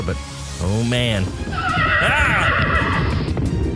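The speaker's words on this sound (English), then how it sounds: "A couple of men on horses just rode by, galloping into the battle" Horses whinny loudly in a rising-and-falling call, followed by a second long neigh with hoofbeats, as men gallop into a battle; a voice briefly speaks over the start.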